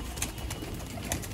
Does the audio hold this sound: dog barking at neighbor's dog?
no